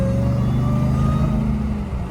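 A Ram TRX pickup with an aftermarket JMB intake gives a loud, close steady engine drone with a strong low growl and a droning hum, with no one talking.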